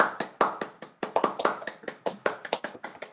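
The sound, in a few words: applause, hands clapping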